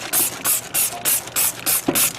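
BBQ grill cleaner sprayed from a trigger bottle onto a grill, eight quick evenly spaced hissing spritzes, close and loud with no talking.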